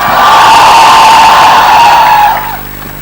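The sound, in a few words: enthusiastic crowd cheering at Jaipur Lit Fest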